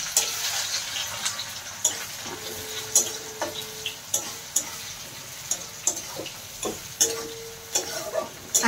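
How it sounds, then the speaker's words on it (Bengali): Onions sizzle in hot oil in a village kitchen while a fish curry is cooked: a continuous soft frying crackle broken by regular clacks and scrapes of stirring, with no speech. "আমি এই পাশে তেল গরম আছে, আমি পেঁয়াজটা দিয়ে দেবো।"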